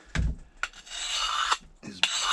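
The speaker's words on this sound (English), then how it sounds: "when you try to sharpen your knife" A blade drawn across a sharpening stone outdoors: a few close, gritty rasping strokes separated by short taps and pauses, alone without talk.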